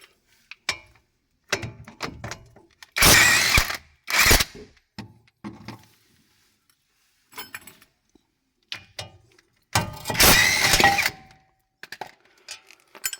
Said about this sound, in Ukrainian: для демонтажу тормозного диска треба відкрутити ці два болта є 20